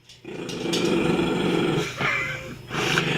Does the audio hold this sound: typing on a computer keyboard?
no